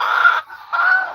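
A new hen laying in an egg-collecting crate gives two loud, drawn-out squawking clucks, close and alone, separated by a brief softer dip.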